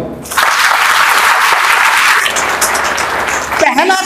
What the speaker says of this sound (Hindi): एक बार ताली बजाओ।